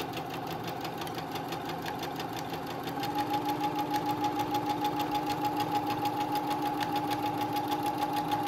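A sewing machine stitches a fabric mask with a steady mechanical whir and a rapid, even pulsing beat, growing a little louder after a few seconds and continuing alone without pause.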